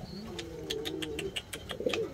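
A pigeon coos close by in a pigeon fancier's loft in Valencia, a few soft throaty rolling notes beneath a steady run of sharp clicks or chirps.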